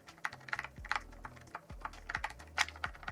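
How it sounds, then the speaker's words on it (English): Fingers type quickly on a new green computer keyboard whose keys give soft, buttery clicks. The keystrokes are close and fairly quiet, coming in an uneven, rapid patter with no other sound. "I got a new keyboard and it's green and it's beautiful and the sound of it is very like soft and buttery click wise"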